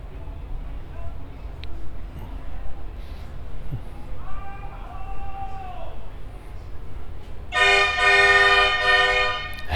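A loud, sustained horn blasts near the end inside a motorcycle museum, following a stretch of quieter indoor background noise with faint voices.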